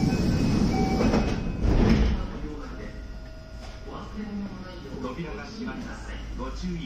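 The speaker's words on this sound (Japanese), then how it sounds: "扉が閉まります。" Sliding doors on a Kintetsu Kyoto Line express train closing, with a brief rumbling thud amid the carriage's steady hum and a voice announcing in the background.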